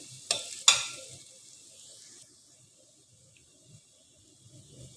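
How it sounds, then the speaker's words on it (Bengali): Onions frying in a pan for Chattogram khaisha: two sharp clatters of a spoon, then a soft, steady sizzle that fades to a faint hiss. "এটাকে ভালোভাবে কিছুক্ষণ ভেজে নিতে হবে।"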